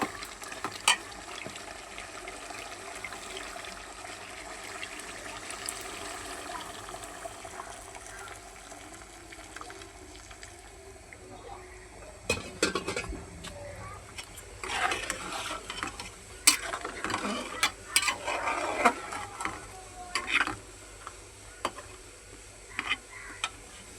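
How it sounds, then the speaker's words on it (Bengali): Boiled water poured into a pot of well-braised meat, giving a steady hiss and bubbling that rises into louder sizzling, stirring and clattering bursts in the second half, close by with no talking. "এখন আমি এই যে ফুটানো পানি দিয়ে দিই।"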